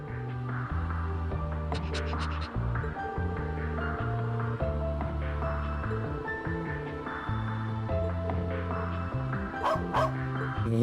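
A dog in the video game Trails into Reverie gives repeated yips and barks along with some whimpering, fairly close, over looping game music.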